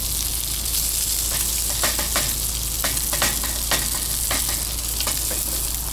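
Breakfast fries steadily in a pan with a continuous broadband sizzle, punctuated by occasional sharper crackles and spatters from the hot fat, close and fairly loud, with no voices over it.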